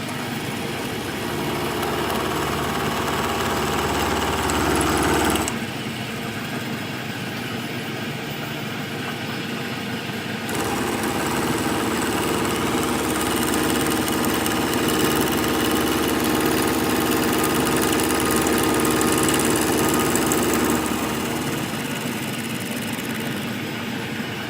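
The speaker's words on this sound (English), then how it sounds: "Just milling the spokes to make sure they're straight after cutting them with a saw." A milling machine cuts the spokes of a steering wheel for a Ferrari-style go-kart build, trimming saw-cut steel straight. A steady, loud mechanical drone runs throughout, with its tone shifting briefly near the middle.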